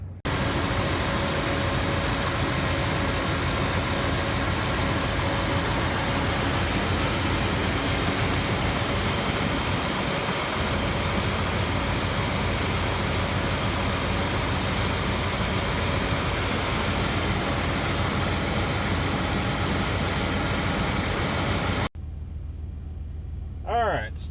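A 1990 Chevy Silverado pickup engine idles steadily and evenly at close range, a continuous low hum that runs on without change before ending suddenly.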